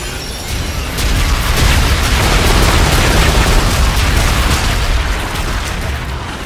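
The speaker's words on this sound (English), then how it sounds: "Friendly bombardment incoming." Friendly bombardment pounding the battlefield in the shooter Infinite Warfare, a dense, loud barrage of overlapping blasts and crackling impacts rolling on for several seconds with barely a pause.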